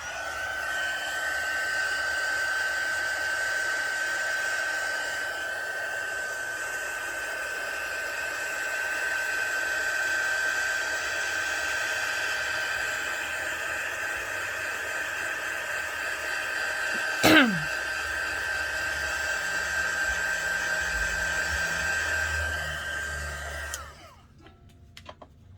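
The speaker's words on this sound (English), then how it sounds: "Now that we have our background, we're gonna take our heat tool" A handheld heat tool blows steadily while heat-setting ink on a stencil background, a loud, even whirring hiss with a faint whine that runs continuously before cutting off near the end.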